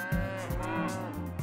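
Cattle mooing in a mountain-area grazing pasture: several long, loud, close moos overlap and follow one another with no break, with no talk.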